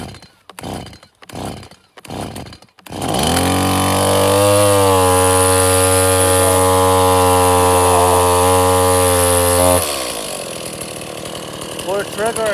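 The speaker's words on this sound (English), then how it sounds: "that's how you start the Stihl MS-170" A Stihl MS-170 chainsaw takes three quick starter-cord pulls, then catches and runs at a loud, steady, buzzing idle that rises slightly in pitch before dropping and winding down near the end.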